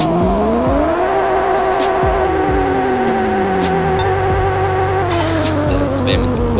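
Game car engine in Pixel Car Racer revs continuously with rising and falling pitch steps, tires squealing as they spin in place to heat up, loud and sustained throughout with a brief hiss burst near the end.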